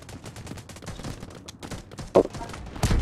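Video game gunfire in Delta Force Mobile, where rapid bursts of shots and a distant sniper crack come across as dense, steady combat noise with a sharper shot near the middle.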